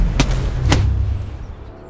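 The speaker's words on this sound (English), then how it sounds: "That sound, that richness, that deep thud that comes from a perfectly struck shot" A Titleist Vokey SM11 wedge striking a golf ball outdoors: two sharp, solid thuds about half a second apart, close and clear, each with a brief deep resonance before fading into quiet ambience.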